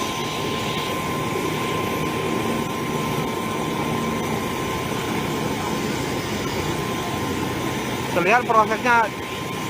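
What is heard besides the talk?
helicopter for evacuating the Jambi police chief's party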